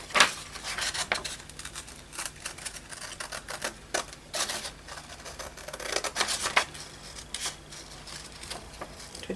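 Scissors cutting through paper from an old vintage book, a close, irregular run of crisp snips and small papery clicks with short pauses between cuts, with no talking.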